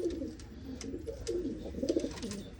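A large zone racing pigeon coos softly in a low, warbling rumble, several bursts repeating through the moment, faint and close with faint background noise and no talk.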